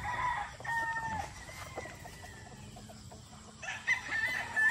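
Black Kelso gamefowl roosters at a gamefarm in the late afternoon crow several times, with clucking between the calls, at moderate distance over a soft outdoor background.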